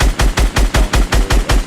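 Rapid gunfire in Fortnite shooting down a player's build, eight or nine evenly spaced loud bursts in a quick steady rhythm, close and clear with no talk.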